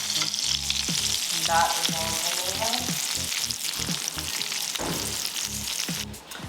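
Beef sizzles and fries in a hot pan with a dense, continuous crackle. Short low thumps from the pan or utensils punctuate the sizzle, and a voice speaks briefly over it.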